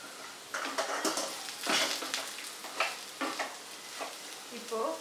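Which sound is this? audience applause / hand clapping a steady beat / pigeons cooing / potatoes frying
potatoes frying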